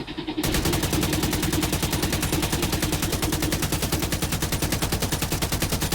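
Automatic rifle fire in The Division with the trigger held down and no recoil control: a loud, unbroken rapid burst of evenly spaced shots lasting about five and a half seconds, with no talking.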